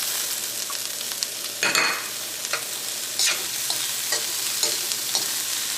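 Carrots, beans, frozen green peas and capsicum stirred and frying in a pan for vegetable oats upma, with a steady soft sizzle and a few louder scraping stirs spread across the clip.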